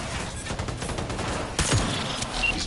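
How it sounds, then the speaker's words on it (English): Enemies shoot during a firefight in Cyberpunk 2077, giving a dense, continuous clatter of overlapping gunfire at moderate distance with a few sharper cracks standing out. "They're already shooting us."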